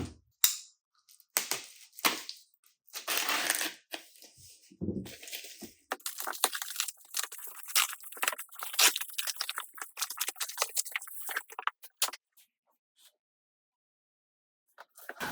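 Cardboard packaging is handled and opened during an unboxing, with close, intermittent crinkles, scrapes and crunching rustles separated by brief quiet gaps.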